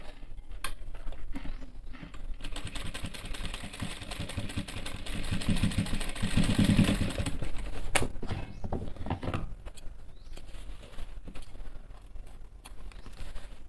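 A sewing machine stitches the watch pocket on a pair of tight-fitting men's trousers, giving a continuous low mechanical hum with a faint rhythmic patter throughout.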